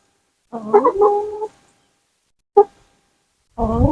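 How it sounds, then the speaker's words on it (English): A chicken gives a drawn-out, wavering cluck, then a short sharp cluck after a pause, and another call starts at the end. Close and clear. "the chickens love them"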